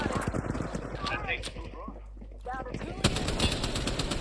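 Rapid automatic gunfire crackles through an Apex Legends match, loud and close in repeated bursts, with a voice talking over it and a sharp shot near the end.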